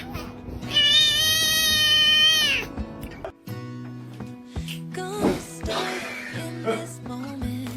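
A cat yowls loudly and unhappily in a long, drawn-out wail, then breaks into shorter, wavering meows and growling cries, close to the listener with little other sound around it.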